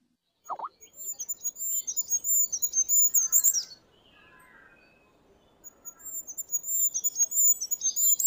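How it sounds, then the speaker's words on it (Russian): A goldcrest sings a very high, thin, rapid trilling phrase that rises and accelerates, pauses briefly, then starts again, clear and fairly close with no other voices. "Королек."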